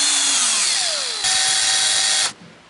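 A power drill bores a hole into wood for a boat rod locker, a loud close whine with the motor pitch shifting as it bites, then a sharp cut-off after about two seconds.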